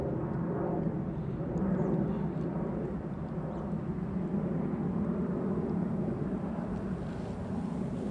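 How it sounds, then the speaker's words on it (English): A jet flying overhead produces a steady, broad low roar that fills the whole stretch at moderate loudness, with no distinct events or talking. "Nice jet up there, making a lot of noise."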